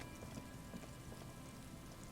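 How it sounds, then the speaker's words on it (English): Rain falls steadily on surfaces in the Disco Elysium video game, a dense, even patter of drops without pauses or talk. "reeds chafe against one another while the rain falls"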